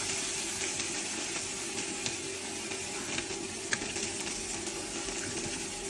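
Chopped onion fries in a pan with prawns, giving a steady, close hiss and sizzle with faint crackles throughout and no talking.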